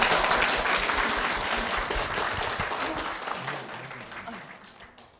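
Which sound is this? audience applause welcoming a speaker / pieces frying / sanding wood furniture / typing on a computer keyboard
audience applause welcoming a speaker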